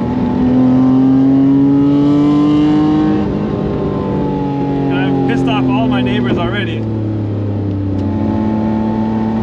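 A loud car engine with a leaking exhaust revs and rumbles steadily, rising and falling in pitch, while someone talks over it close by.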